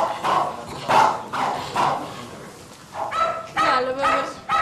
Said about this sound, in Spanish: Ese perro me tiene mal, pa. Vete, cállalo,